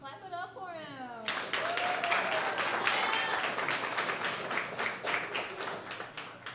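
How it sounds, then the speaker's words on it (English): An audience applauds an award winner at a Texas sports awards event with steady, moderately loud clapping that starts abruptly after a brief spoken line and carries on to the end. "Clap it up for him."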